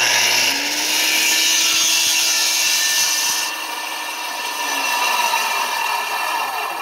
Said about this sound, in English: Then you can plunge cut with your saw.